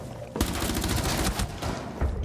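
Rapid bursts of video game gunfire crackle continuously for about two seconds, dense and loud, with echoing booms and no speech.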